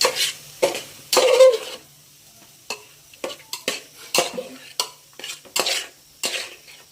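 A spoon stirs freshly ground garam masala into a cooking pot, giving scattered metallic scrapes and clinks against the pot in irregular strokes, with a soft sizzle underneath.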